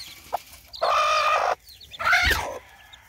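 A nearly 11-year-old rooster clucks and calls in two loud bursts, fairly close, with brief quiet gaps and faint background noise in between.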